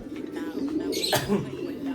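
Soft, low racing pigeon coos close by, with a brief rustle or flutter partway through over a steady background hum.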